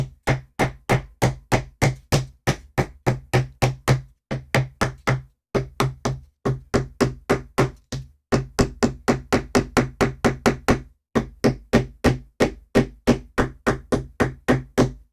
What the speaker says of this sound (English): Still going to hammer it a little because that was fun.